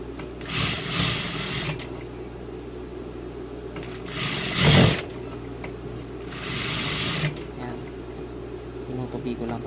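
Sewing machine stitching folded fabric in three separate runs, each a buzzing mechanical whir lasting about a second, with someone talking between and over the bursts.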